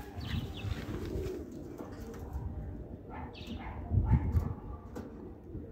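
Kalchi pigeons for sale coo softly in low, throaty murmurs with faint rustling and a brief louder coo near the middle, close by and fairly quiet.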